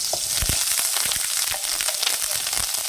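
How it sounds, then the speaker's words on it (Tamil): A handful of curry leaves sautéing in hot oil for a brinjal gravy, a loud continuous sizzle with crackling pops and occasional stirring scrapes close by. "அப்புறம் கருவேப்பிலை ஒரு கைப்பிடி போட்டுக்கலாம். இதை நல்லா எண்ணெயில் வணக்கிக்கலாம்."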